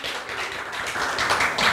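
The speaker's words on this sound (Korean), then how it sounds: "박수 주세요" A church congregation claps briefly during a Sunday service, a short burst of scattered hand claps at moderate level with no talking.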